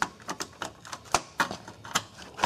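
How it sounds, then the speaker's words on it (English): Irregular plastic clicks and clacks from a Commodore 64 as its keyboard is lifted and a connector plug is pulled out, a series of sharp close knocks with short gaps between them, no talking. "now the keyboard just lifts right up, and then remove this plug"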